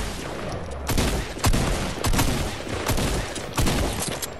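Rapid video-game gunfire fills the whole stretch, loud, dense bursts of shots with sharper peaks standing out at irregular intervals, with no talk over it.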